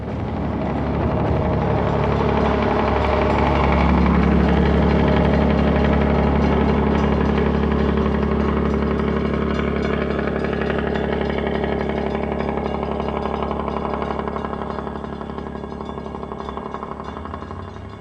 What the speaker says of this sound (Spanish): Este vehículo, impulsado por un motor diésel de 12 cilindros, fue construido por Ansaldo